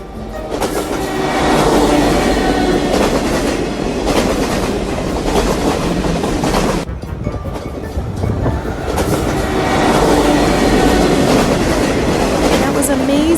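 Passing train on a Scottish railway, loud and close, with continuous rumbling and rhythmic wheel clatter that swells, dips briefly, then builds again across the whole passage.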